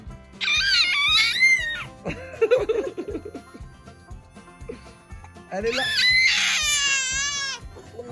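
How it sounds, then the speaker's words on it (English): A baby girl screams and wails in loud, high, quavering bursts, two long outbursts separated by softer fussing, with a voice speaking briefly in between. "she's finally sussed out how to scream now."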